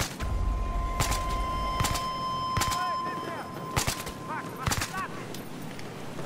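Several sharp gunshots ring out in the video game Battlefield Hardline. They come singly at irregular intervals with short echoing tails, and a low rumble sits under the opening moments.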